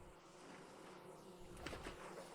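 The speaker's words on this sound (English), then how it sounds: "And I think I hear more bees." Bees buzz faintly in the video game Vintage Story, a soft, continuous insect drone at a low level with a few slightly louder passes near the end.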